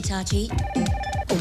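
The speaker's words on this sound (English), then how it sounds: "wait, that's my phone." A telephone ringing: a short electronic ring tone under a voice speaking, briefly heard and close.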